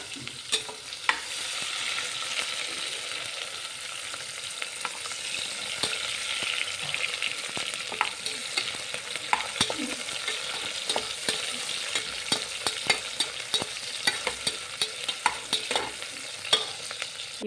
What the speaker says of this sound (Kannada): 2 ಕಟ್ ಮಾಡಿಕೊಂಡಿರುವ ಈರುಳ್ಳಿ ಅದನ್ನು ಹಾಕಿ ಚೆನ್ನಾಗಿ ಫ್ರೈ ಮಾಡ್ಕೊಳ್ಳಿ.